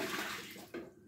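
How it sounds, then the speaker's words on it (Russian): Water pours and splashes as it is drained off washed, peeled potatoes in a kitchen, a short close-up gush that briefly surges again before tapering off. "Сейчас мы ее воду выльем."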